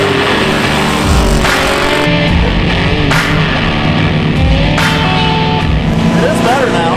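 Car nicknamed Stonewall driven on a dirt road test, a loud steady engine roar with shifting revs and gear changes, close and continuous, with a voice talking over it.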